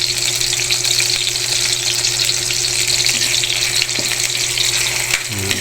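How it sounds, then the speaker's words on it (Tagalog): Tomato, garlic and onion fry together toward caramelizing in a constant loud, hissing sizzle close by, with a faint clink near the end. "Kaya pa natin ma-caramelize ang kamatis, ang bawang at ang sibuyas para sumarap lalo."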